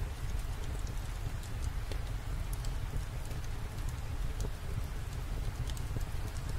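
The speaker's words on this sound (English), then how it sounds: "The rhythmic patter of raindrops is like a symphony of nature" Steady rain falls and patters on surfaces, a dense continuous wash of small scattered drop ticks at an even, moderate level with no voices.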